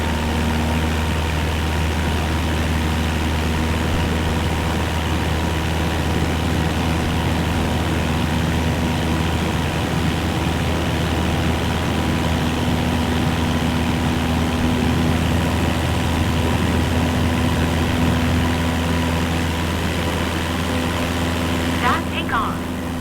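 A propeller aircraft engine in Microsoft Flight Simulator 2024 drones steadily at high power during takeoff, a continuous low, even hum that holds unchanged throughout with no breaks.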